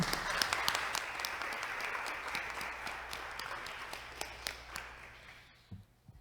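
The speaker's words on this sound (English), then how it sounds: "a round of applause for the new addition to our state" A small round of applause fills the Connecticut state senate chamber, steady scattered clapping from a sparse group that fades out near the end.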